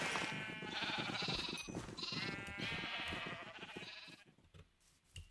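Dense overlapping sheep bleats from a flock in Minecraft, steady and fairly loud for most of the stretch, then thinning out and fading toward the end.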